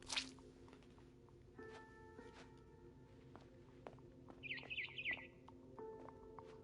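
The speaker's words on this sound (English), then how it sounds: "Then I heard chirping outside my window. It was a barn swallow going back to her nest." A barn swallow in the video game What Remains of Edith Finch gives a quick cluster of high chirps, fairly faint against a soft ambient background with a few scattered drips and clicks.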